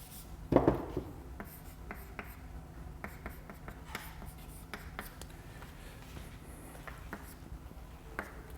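Pen or chalk writing out a maths expression during a statistics lecture, giving faint scratchy strokes and taps in an irregular rhythm after one sharper knock, with a quiet room behind.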